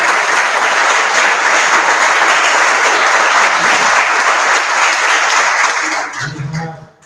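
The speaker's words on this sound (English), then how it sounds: "Could you please give a hand of applause for them?" Loud, sustained applause from a community audience at a Baháʼí Naw-Rúz gathering, steady dense clapping that fades out at the end.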